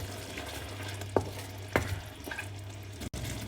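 Tomatoes cook in a yellow noodle stir-fry mixture for mee goreng, giving a soft steady sizzle with a few sharp scrapes of a utensil against the pan.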